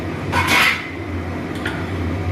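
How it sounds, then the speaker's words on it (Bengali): A lid is lifted off a cooking pot of simmering eggplant, potato and lentil-dumpling curry, giving a single brief metallic clink and scrape, then a soft steady hiss of bubbling underneath. "এবারে আমি ঢাকাটা খুলবো।"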